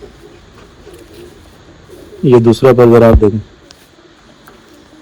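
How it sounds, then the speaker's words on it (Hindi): Slate-grey pigeons cooing close by, a burst of several throaty, rhythmic coos rising over a quiet background, with someone speaking briefly before and during the calls. "बहुत तेज़ कबूतर हैं।"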